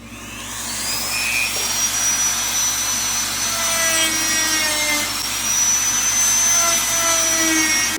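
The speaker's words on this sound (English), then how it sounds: "take our little Dremel here with a sanding wheel, and we're going to sand this radius a little bit" A steady high-pitched whine of a Dremel rotary tool with a sanding wheel grinding a metal radius on an AR-10 rifle part, continuous and loud for the whole stretch with no voices.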